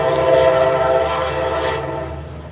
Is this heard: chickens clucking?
no